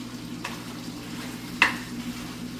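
Sausages frying in a pan after being boiled first, giving a steady soft sizzle with a couple of brief stirring or scraping clicks, close and fairly quiet, no talking.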